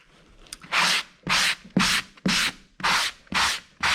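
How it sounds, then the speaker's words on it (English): Seven rhythmic, evenly spaced rasping strokes of a medium-grit sanding sponge scrubbing dried drywall mud, close and clear with brief pauses between passes. "drywall mud sands down incredibly easily"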